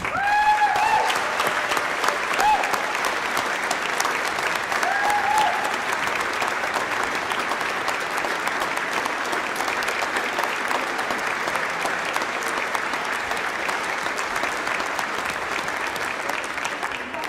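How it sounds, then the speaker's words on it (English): Long, steady applause from members filling a state legislature's House chamber, dense clapping holding at an even level for many seconds with a few faint voices mixed in. "Members, let's give them a round of applause."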